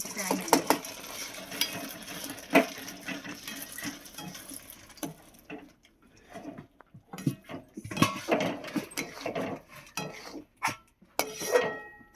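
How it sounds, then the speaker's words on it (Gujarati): Peanuts being stirred into melted jaggery in a pot while making peanut ladoo, heard as scraping spoon clatter and pattering knocks that come in uneven bursts, close up, with quieter pauses between strokes. "ગોળ લાલ થઈ ગયો તો હવે સિંગના દાણા નાખી દઈએ"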